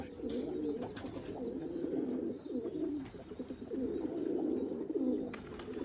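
Erzurum white pigeons coo steadily in a coop, a dense, continuous low burbling from several birds close by, with occasional faint chirps and no talking.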